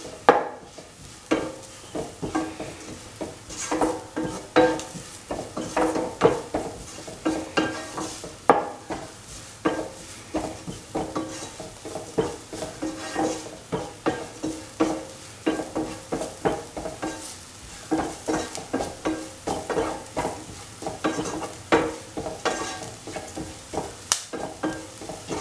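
A spoon scrapes and stirs black-eyed beans and capsicum masala with coriander and turmeric powder in a sizzling pan, steady rhythmic scraping over constant frying, close up.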